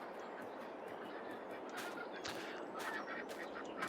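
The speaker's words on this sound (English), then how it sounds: "Just checking out the ducks." Ducks on a farm in the video game Farming Simulator 22 give faint, scattered quacks and honks over a steady ambient background, with no talking.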